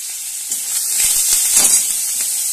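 Curry leaves and grated ginger sizzle in hot oil in a pan for moong dal, a steady bright frying hiss that swells briefly with a few soft stirring clicks, close and with no talking.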